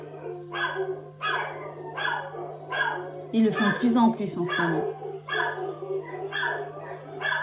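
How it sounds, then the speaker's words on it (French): Several dogs bark and yip in rapid repeated bursts, with a whimpering, howl-like stretch in the middle, close and loud over a steady low hum while a person talks in French. "j'ai les chiens qui vont vous faire un petit concerto."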